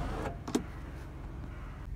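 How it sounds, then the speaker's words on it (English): The electric tilt-and-slide sunroof motor of a Honda Accord 2.4 i-VTEC Executive whirs faintly and briefly, with the engine running quietly beneath. "You can see it's electric tilt on there and slides back, and it all works absolutely perfectly."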